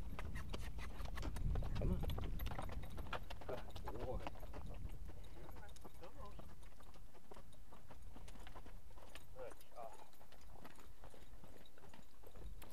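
Soft hoof clops from a horse sound at a moderate distance, a loose rhythm that fades in and out under background noise and occasional voices.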